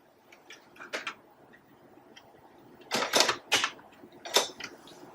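A zipper foot clicks into place on a sewing machine with a few sharp, quick plastic-and-metal snaps, close and crisp against a quiet room.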